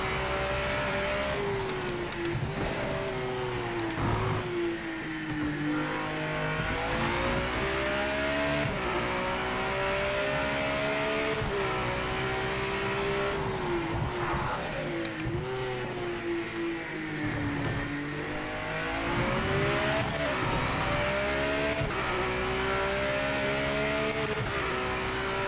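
A hypercar engine in the Project CARS racing game revs hard and climbs through the gears, its loud droning pitch rising and dropping at each shift over about twenty-five seconds of continuous acceleration.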